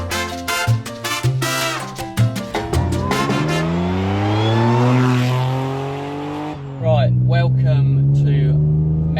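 An Audi S4 accelerating hard on an open country road. The engine revs climb steeply through several quick gear changes, then give one long, loud rising pull before another shift, all heard from inside the car.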